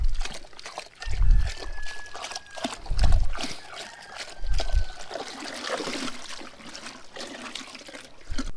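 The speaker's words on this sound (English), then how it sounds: "I'm just using my hands and dissolving, agitating the water, allowing it to dissolve." Hands swish and slosh water to dissolve sugar for bee feed, outdoors before rain, giving close splashy trickling with several heavier low surges at irregular intervals.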